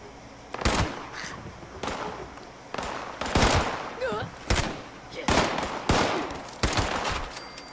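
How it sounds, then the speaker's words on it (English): Gunfire in the Fallout 76 video game during a fight with Scorched enemies, a series of sharp, loud shots spaced about a second apart over a steady background hum. "Yeah, we're under fire."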